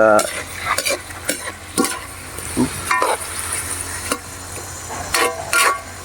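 A fish dish stirred in a pan: repeated scraping strokes of a utensil against metal over a low background sizzle, loud and close, with a few clinks and no talking.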